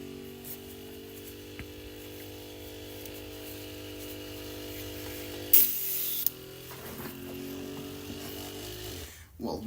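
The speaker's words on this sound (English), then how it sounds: "that sure demanded a lot of the airbrush compressor" An airbrush compressor drives steady spraying for several seconds, a continuous hiss over a low motor hum, then cuts out with short bursts and shifts in pitch before the motor stops near the end.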